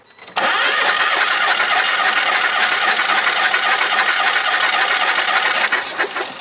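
Geo Metro engine cranking over during a dry compression test on cylinder one, a loud, steady, rhythmic starter churn lasting about five seconds, then stopping abruptly with a brief rattle.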